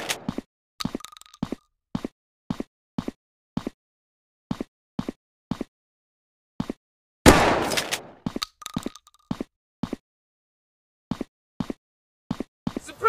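Separate gunshots fired one at a time in a steady rhythm from the Modern FPS Military Strike mobile shooter game, with a louder burst of noise partway through. Every shot is sharp, close and loud, with silence between shots.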